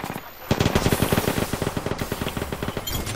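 Rapid automatic gunfire rattles in Apex Legends, a fast, steady stream of close, loud shots running for about three seconds with no talk over it.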